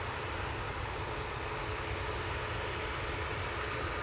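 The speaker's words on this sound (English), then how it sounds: "737-800 now coming on" A Boeing 737-800 airliner at Manchester Airport produces a continuous, moderately loud jet rumble and hiss, steady and unbroken, heard from some distance with no speech.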